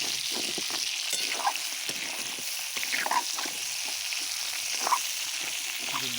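Meat frying crisp in plenty of oil, a steady close-up sizzle and crackle that holds throughout with small spits and pops and no talking.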